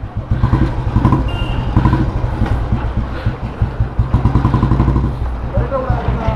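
A 1957 Royal Enfield Bullet G2 vintage motorcycle's single-cylinder engine runs steadily at a loud, close idle with an even thumping beat, under wind and background noise.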